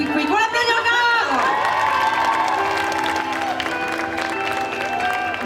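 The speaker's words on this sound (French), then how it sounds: "On l'applaudit encore." A crowd at a cosplay parade during a geek convention applauds and cheers, with shouts and whoops over steady clapping and a presenter's voice speaking through the noise.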